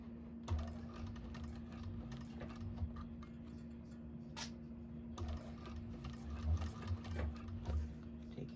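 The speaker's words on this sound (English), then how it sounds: "And then sew right across that line." A sewing machine runs in steady bursts while stitching across a line on a fabric bag, with a brief pause midway, its rapid mechanical whir close and continuous.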